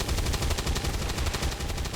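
Rapid burst of cannon gunfire in the video game XCOM Long War 2, a dense run of sharp, loud repeated shots packed closely together for about two seconds.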